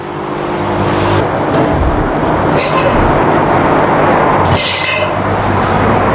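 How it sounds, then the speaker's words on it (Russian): A garbage truck in Germany collects large waste containers, its engine a loud steady rumble broken by two sharp metallic clanks and hisses of lifting gear, close by and with no talk. "большие контейнеры, приехала мусорная машина, и сейчас как раз вывозят мусор."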